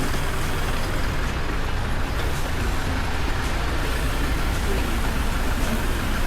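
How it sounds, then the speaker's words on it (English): A lorry rumbles along a city road in Singapore, a steady loud roar of engine and traffic noise heard close by from a bicycle, with no break in the din. "Wait, the truck is moving."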